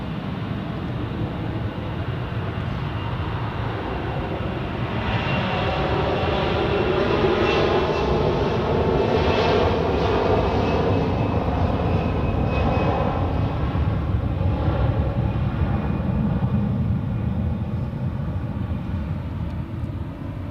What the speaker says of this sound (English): the next departure on runway 28 is an A321 of Swiss outbound to Milano